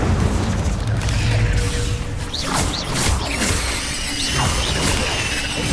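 Incendio fire spell cast in the video game Hogwarts Legacy, a dense booming whoosh with crackling, mechanical rumbles and swishes layered over a loud continuous game soundscape.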